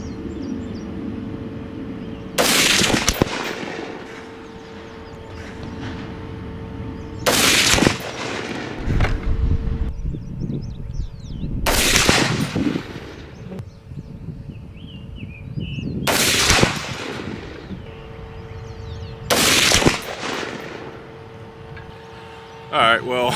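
A Sig 716i rifle fires Winchester Super X hollow-tip hunting rounds outdoors, five loud, sharp shots spaced roughly every four to five seconds, each with a brief echoing tail, with someone talking between shots.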